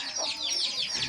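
Chickens being let out of their coop cluck and chatter in a quick, busy run of high calls, close by and fairly loud, with no talking over them.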